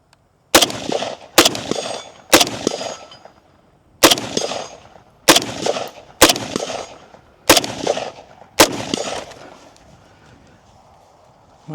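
An FN SCAR 17S battle rifle fires eight loud, sharp shots outdoors, spaced roughly a second apart, each crack followed by a brief ringing echo decaying into quiet.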